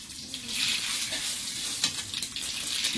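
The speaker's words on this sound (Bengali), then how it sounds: "তেলের মধ্যে একটু শুকনো লঙ্কা কষি" Dried red chillies and cumin frying in hot oil for a mango and mourala fish dish, giving a steady, close sizzle with a faint crackle and no voices.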